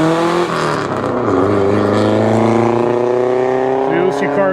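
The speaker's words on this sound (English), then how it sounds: "you get to hear all the exhaust and everything running all day long" Vintage race car exhausts at the Pittsburgh Vintage Grand Prix give a loud, sustained engine drone with shifting harmonic pitch close by, with a voice talking over it.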